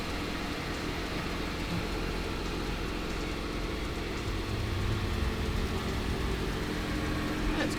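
A Dodge Challenger GT fitted with a Borla S-Type cat-back exhaust idles with a steady low rumble, while people talk faintly in the background.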